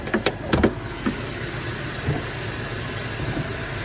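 Jaguar S-Type 4.2 V8 from 2003 idling quietly as a steady low hum, with a few sharp clicks and knocks near the start and no voices.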